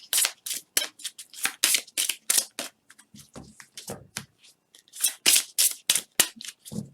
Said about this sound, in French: Je vais rajouter une autre carte concernant ce domaine.